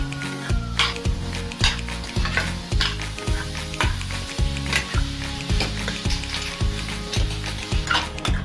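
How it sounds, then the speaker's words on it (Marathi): Grated carrots cook with sugar in a pan for carrot halwa, giving a constant sizzle with occasional utensil scrapes, all under steady rhythmic background music. "तर आता मी त्यात थोडी थोडी साखर टाकून त्याला परतून घेणार आहे"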